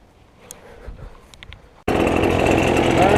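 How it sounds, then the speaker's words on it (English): A gas backpack leaf blower fires up abruptly after a quiet stretch and then roars loud and steady, running to burn the leftover fuel out of its carburetor. "now I'm going to fire up the backpack blower and burn out whatever else is left in the carburetor"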